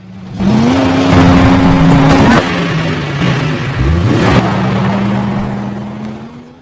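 Stolen car being driven away in a film scene: a loud, close engine revving and whining through gear changes, with a brief surge and bump midway, steady and alone without voices.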